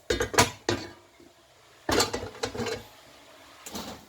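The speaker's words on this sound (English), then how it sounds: "place the pot." Metal cooking pot set down on a gas stove while preparing Nigerian vegetable soup, a few clanks and scrapes in short bursts with quiet gaps between them, close and fairly sharp.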